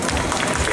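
Audience at a lolita fashion contest giving a dense burst of applause, many hands clapping at once, loud and close, with crowd murmur mixed in.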